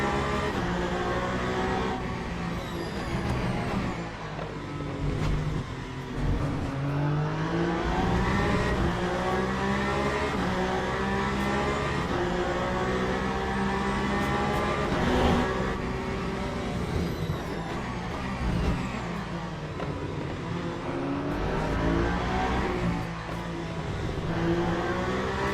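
Race cars lapping the Imola circuit in the sim racing game Le Mans Ultimate during a 100-minute endurance race, multiple engines droning and shifting pitch continuously, revving and passing close without pause.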